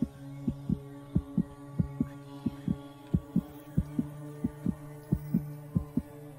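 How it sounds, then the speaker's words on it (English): Heartbeat sound from the video game RarityGame.exe, a low rhythmic double-thump pulse repeating steadily and gradually quickening over a soft background hum, no voices present. "I hear heartbeats and it's like it's speeding up again."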